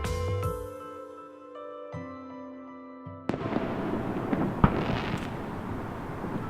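Fireworks burst in a dense volley, sharp cracks and booms crackling over one another, loud and fairly close after a brief lull of tonal background sound.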